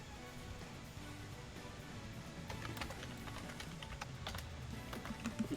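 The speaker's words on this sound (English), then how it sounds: "We can hear you typing" Faint computer-keyboard typing comes through a voice-chat line during an online tabletop role-playing game session. A low hiss sits underneath, and the quick clicks become clearer over the second half.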